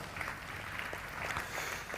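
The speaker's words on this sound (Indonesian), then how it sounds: "Tepuk tangan bagi Tuhan." Faint, distant applause from a church congregation, an even patter of many hands clapping steadily, with no talking over it.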